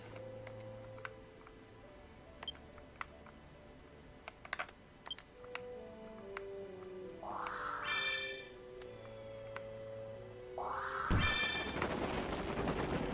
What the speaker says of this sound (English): I want to get out my fireworks and light some off.